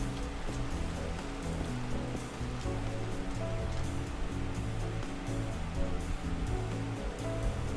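Steady rain hisses and patters without letup in a Minecraft hardcore world, a dense, even wash of sound with a low rumble beneath and no voices.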